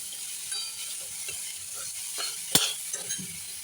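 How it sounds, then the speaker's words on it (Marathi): Jaggery and fresh grated coconut are stir-fried over a low flame in a pan as a modak filling, with soft scraping strokes over a gentle sizzle and one sharp clink of the spatula against the pan. "गूळ आणि ओलं खोबरं असं आता छान परतून घेऊया आणि याचं सारण बनवून घेऊया"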